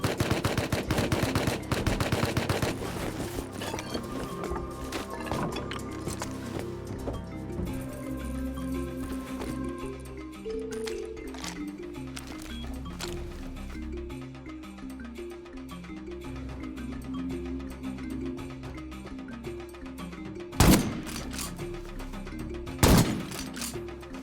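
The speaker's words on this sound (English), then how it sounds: "The pump-action shotgun gives them an edge over their competition." A pump-action shotgun fires during a Rust firefight, with a rapid rattle of shots at the start. Scattered sharper blasts follow over a busy background of clatter, and two loud single shots stand out near the end.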